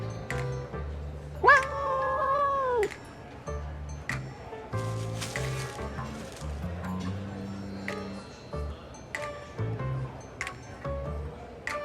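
A little collared cat meows in the video game Love and Deepspace: a clear, rising-then-falling mew near the start and a lower drawn-out tone later, over soft game music and light clicking effects.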